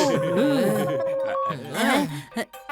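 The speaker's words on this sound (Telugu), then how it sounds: "అరే ఇది నా ఫోన్ రింగ్ టోను." An electronic phone ringtone plays a bright, cartoonish melody of beeping tones, followed by a few short vocal noises near the end.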